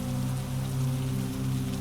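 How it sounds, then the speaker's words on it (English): Steady rain falls on a mountain monastery, a dense, even wash of drops with a low continuous hum beneath, no voices. "The rain continues, unchanged, as if it has been falling since long before you arrived, and will go on falling long after you have forgotten to listen."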